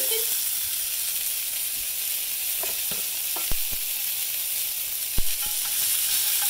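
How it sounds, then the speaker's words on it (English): Meatballs browning in a lightly oiled pan give a steady, close sizzle throughout, broken by a few sharp clicks and scrapes from a utensil, with no voices present. "So all you're going to do is brown these meatballs"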